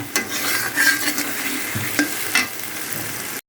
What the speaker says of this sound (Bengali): এভাবে নেড়ে নেড়ে ভেঙে নিচ্ছি